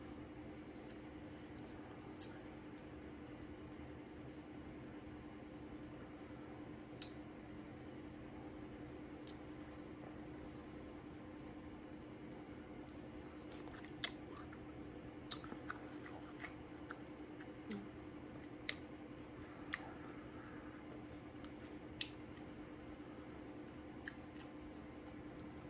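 Shrimp from a seafood boil being eaten, with soft wet chewing and occasional sharp bites close to the mic over a steady low room hum, no talking.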